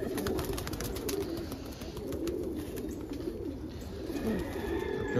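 Pigeons cooing outdoors on a morning after heavy rain, soft repeated low coos over a steady damp background hiss, fairly faint and unhurried.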